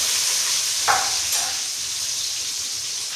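Small and big onions with dried red chillies fry in hot oil, giving a steady, close sizzling hiss with a brief clink or stir partway through.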